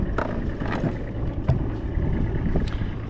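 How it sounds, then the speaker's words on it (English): A sailboat's engine drones steadily with low rumble and wind noise over the microphone, continuous and fairly close, with no speech. "I'm going to drive the boat out to a little bit more open water"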